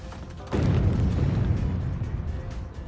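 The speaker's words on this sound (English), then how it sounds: "Rusty and the Boulder Sound after his fall sounds like this in the UK dub" A heavy rumbling boulder crash bursts in after a low background, then a dense crumbling roar of debris that lingers and slowly eases off; from a cartoon's UK dub.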